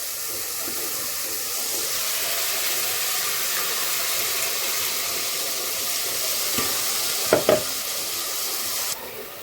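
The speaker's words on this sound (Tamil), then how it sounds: "எண்ணெய் நல்லா திரிஞ்சு வர அளவுக்கு நல்லா வதக்கிக்கலாம்." Ground ridge gourd paste sautéing in oil in a pan, a steady close sizzle and hiss throughout, with a few brief scraping stir sounds near the end and no talking.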